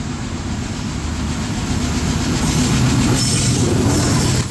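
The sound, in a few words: Kapotaksha Express train passing through the station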